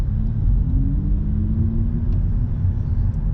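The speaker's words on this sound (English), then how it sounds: "it almost sounds like the motor out of a Camry TRD" A 2022 Lexus UX250h hybrid in sport mode pulls away under acceleration, its synthesized engine note a steady loud droning rumble with a faintly rising tone, heard alone with no talking.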